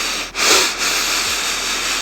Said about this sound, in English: it's the sniffing sounds for me.